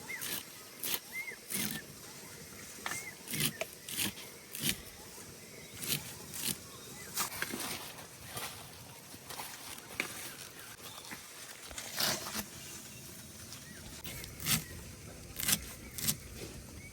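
A knife slicing teasel gourd leaves into thin strips on a board, giving a run of quick, sharp chopping taps at an uneven rhythm, fairly close, with quieter pauses between strokes.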